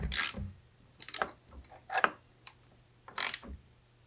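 A ratchet tightens the front wheel axle on a pit bike, giving short bursts of rapid clicking in four separate strokes with quiet pauses between them, close and clear with no talking.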